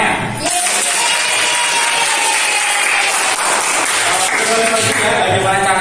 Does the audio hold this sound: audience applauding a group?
yes